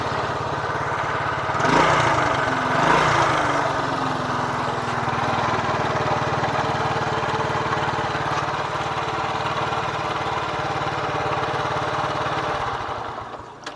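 A Honda Grand motorcycle engine running close by, revved twice early with rising then falling pitch, then settling into a steady idle that continues until fading near the end.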